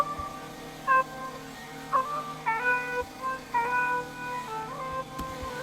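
A sung lead vocal treated like a synth, run through phaser, auto-tune and Valhalla Vintage Verb, drifting in short pitched phrases over a soft, steady bed of background music, fairly quiet with no speech.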